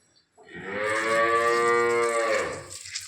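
A water buffalo gives one long, loud, drawn-out moo close by. It swells and fades over about two seconds, with quiet farmyard air around it.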